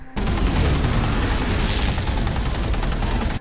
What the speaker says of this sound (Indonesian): Para gunners dari pesawat ini terus berusaha menyerang